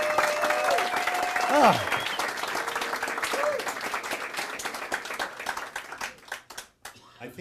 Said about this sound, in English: they just applaud, you see